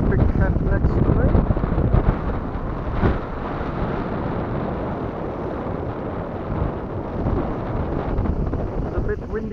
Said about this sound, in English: It's a bit windy again today